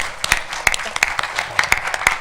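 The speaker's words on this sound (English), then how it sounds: "one more round of applause for our competitors this year" A small audience at a city council meeting claps for the senior olympics competitors, producing scattered, distinct hand claps at an uneven rhythm, close and moderately loud.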